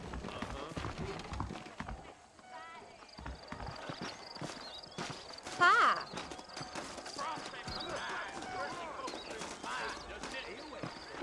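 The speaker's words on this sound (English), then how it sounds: "I got the horses saddled up and ready out front." Horse hooves clip-clop steadily in the video game Red Dead Redemption on PC, a continuous trotting rhythm heard under people talking and other game sounds.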